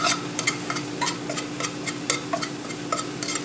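Eggs being stirred in a hot frying pan, with steady faint sizzling and a quick run of light scraping ticks from a utensil against the pan surface.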